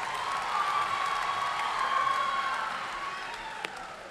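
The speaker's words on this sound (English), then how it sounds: "Another huge round of applause for Wellington East Girls College" A school audience gives a sustained round of applause after the finale of the Wellington East Girls College Poly Club 2022 performance, the clapping a dense, even wash with faint cheering and no clear claps standing out.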